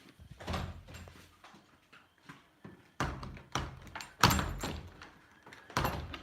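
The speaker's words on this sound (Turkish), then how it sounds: "Kapıyı kapat kızım" A door being closed sounds as a series of irregular wooden thuds and knocks, several bangs spread over a few seconds, fairly near and moderately loud.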